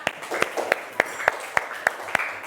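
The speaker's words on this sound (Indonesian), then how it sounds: "Kita kasih tepuk tangan dulu untuk kelompok 4." A classroom claps for group 4: a sparse, evenly paced run of about ten distinct claps, fairly close and moderately loud, with faint room noise between them.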